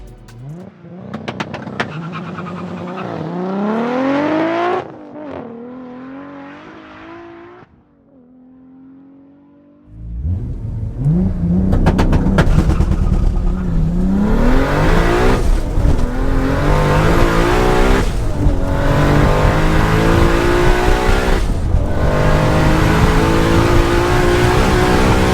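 A 900 bhp Toyota Supra launches on a quarter-mile run, its engine revving hard through rising gear sweeps, easing briefly, then roaring again with repeated shifts at close range, loud and without talk.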